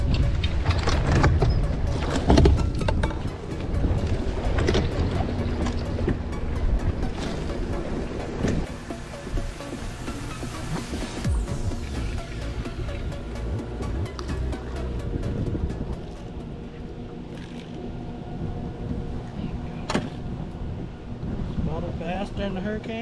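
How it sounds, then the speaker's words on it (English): Strong wind buffets the microphone with constant roaring gusts over choppy water while bass fishing near Opry Mills, loud and steady throughout. "it's pretty windy out today"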